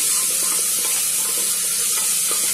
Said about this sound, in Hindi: प्याज को हम चला देते हैं